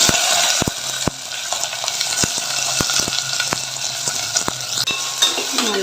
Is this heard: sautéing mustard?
yes